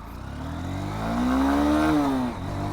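Honda Hornet 2.0 motorcycle pulling away in first gear, the engine note rising steadily to a loud peak before easing off as the revs drop, heard close with no talk.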